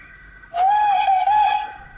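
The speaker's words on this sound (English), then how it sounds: "A shrill whistle soon woke them up" A single shrill steam locomotive whistle blows for about a second and a half, steady and piercing, then cuts off.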